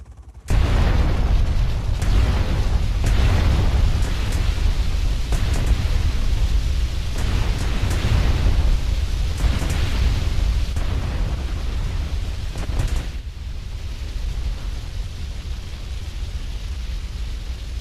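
A bomb going off in GTA Vice City, a sudden loud blast that turns into a long, dense roar of rumbling debris with repeated bursts, slowly easing toward the end.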